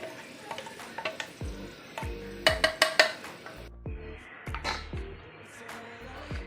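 Bitter gourd is stirred into coconut chili powder in a pan, with a spoon scraping and clinking against metal in uneven strokes over a faint sizzle, while a voice talks now and then.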